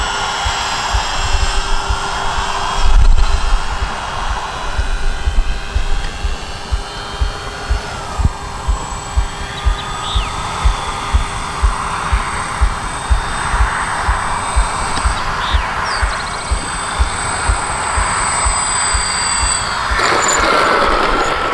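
A Dynam B-26 Marauder RC model plane drones overhead on its maiden flight, a continuous electric motor whine over a steady pulsing thump, fairly loud and unbroken, no talking.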